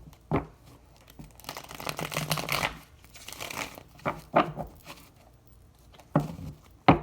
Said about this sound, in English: Do a quick little shuffle.